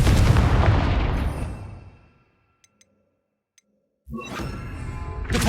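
Confringo blasting spell in Hogwarts Legacy, a heavy explosion that rolls off and fades into near silence with a few faint ticks, then another loud burst of rumbling noise.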